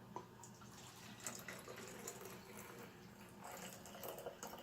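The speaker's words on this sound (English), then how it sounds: "in our empty soap container that was previously used, we are going to add 1 cup of distilled water" Distilled water pours into an empty plastic soap container, a faint, steady trickling splash that continues throughout with small gurgling surges.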